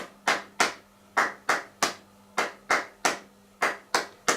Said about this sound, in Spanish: ¿Qué ocurre si damos las palmas al ritmo? Daríamos 3 palmas. Esto es el ritmo de palmas.